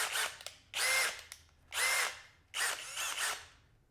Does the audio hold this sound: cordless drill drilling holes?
yes